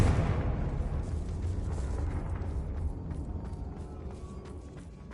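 A Confringo spell explodes in the video game Hogwarts Legacy, a heavy, rumbling blast that starts loud and slowly fades away over several seconds, with no talking.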